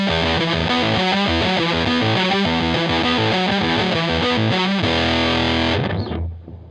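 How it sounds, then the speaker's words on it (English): Electric guitar riff through a Big Muff fuzz pedal with lots of sustain, a dense, saturated chugging pattern played loud and close, ending on a long ringing chord that fades out. "The standard sound I go for is a Big Muff with lots of sustain on it"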